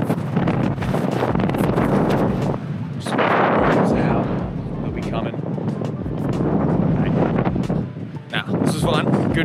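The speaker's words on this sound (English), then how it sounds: "It's hella windy up here, just like every other place on the Oregon coast" Strong wind buffets the microphone high on a dune along the Oregon coast, a loud continuous roaring rumble that surges and eases throughout, with a person speaking over it.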